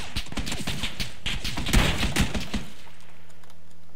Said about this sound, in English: Oh, your pan blocked a shot.